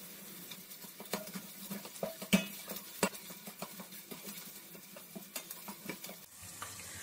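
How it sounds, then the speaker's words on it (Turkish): Onions fry quietly in a pan as tomato and pepper paste is stirred in, giving a low sizzle broken by frequent scraping and clicking stir strokes. "Soğanlar böyle cam gibi parlayınca artık içine salçasını ekliyoruz."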